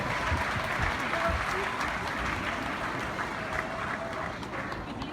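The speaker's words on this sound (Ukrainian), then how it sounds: "Ваші оплески!" An audience applauds at a concert in a town house of culture, a dense, steady wash of clapping that carries through the whole stretch at moderate volume.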